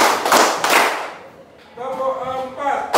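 A handful of sharp hand claps from a primary-school maths lesson open the moment in quick succession, then fade as a teacher's voice takes over.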